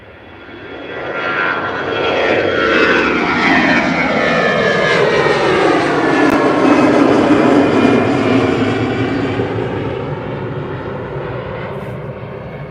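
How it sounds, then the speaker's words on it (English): An EasyJet Airbus A320 in EasyJet Holidays livery takes off from Liverpool John Lennon Airport, its jet engines swelling into a loud, sustained roar with sweeping tonal whines that peaks midway, then slowly fades as it climbs away. "EasyJet A320 with the EasyJet Holidays livery on, off to Alicante."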